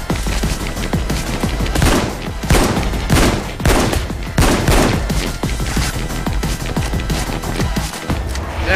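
Gunfire in the video game Payday 2, with rapid bursts of shots crackling in dense rhythmic clusters, loud and continuous across the whole stretch.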